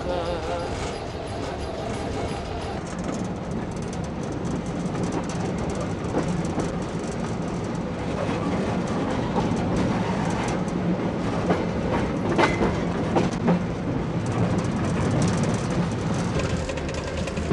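The Train Jaune, a yellow railway train on its mountain line, rumbles steadily with rhythmic clickety-clack of wheels over rail joints and broad rolling noise, loud and close throughout with no voices.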